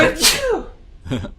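A single loud, close sneeze bursts out with a sharp airy hiss, then a voice speaks briefly after it.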